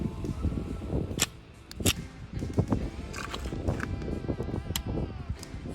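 A Polymer 80 Glock 19 pistol caked in mud during a mud test clicks and clacks as it fails to feed, giving a few sharp metallic snaps amid faint handling noise outdoors.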